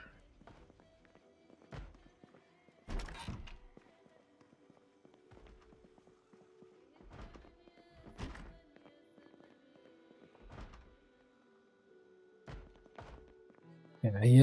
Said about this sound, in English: I hear at least 2 dudes banging on doors